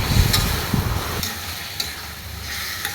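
Fish with spice paste stirred and cooked in a pan for a gourd and magur catfish dish, a soft steady sizzle with a few scraping stirs near the start, close and moderately loud, no talking.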